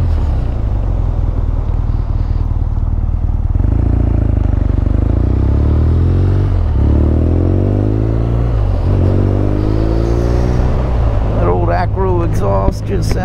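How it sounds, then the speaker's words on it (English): A BMW R nineT motorcycle engine idles and revs with a deep, throaty exhaust rumble, rising in pitch on several throttle blips, loud and close, with a rattle near the end. "Exhaust just sounds so pleasing on this thing"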